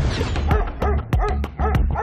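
A Belgian Malinois barks repeatedly in quick, loud, close yips and barks, about six in a row with short gaps between them, and no one speaks.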